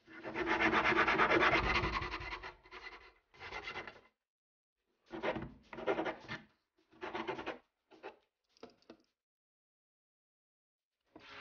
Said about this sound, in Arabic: وهبدأ اشيل الزوايد بالصنفرة.